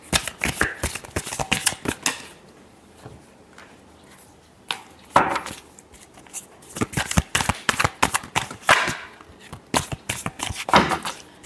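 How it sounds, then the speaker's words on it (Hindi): A deck of tarot cards shuffled during a reading, steady riffling and flicking card sounds close to the ear, running in repeated bursts with short pauses, no talking over it. "Last shuffle."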